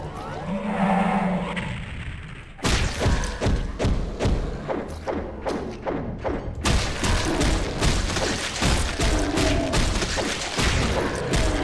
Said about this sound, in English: Why use weapons when I can just punch them all to death?